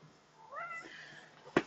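A cat gives a single rising meow up close over a quiet background, followed by a sharp knock at the end.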